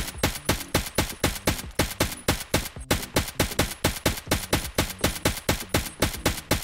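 SAG AK-545 carbine firing in Escape from Tarkov, a fast, even series of sharp, loud shots in steady rhythm with a brief pause partway, no talk over it.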